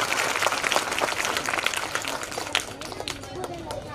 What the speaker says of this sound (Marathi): आता आपल्या पालकांसाठी जोरदार टाळ्या होऊ द्यायचा.